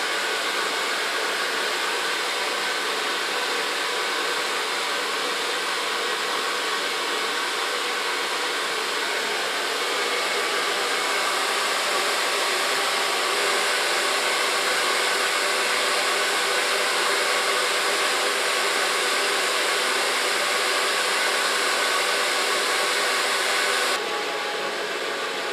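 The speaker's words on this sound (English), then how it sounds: "Just gonna blow dry it with my hands." A handheld hair dryer blows steadily and loudly on a short platinum pixie cut, a continuous airy roar holding the same level for the whole stretch with no voices over it.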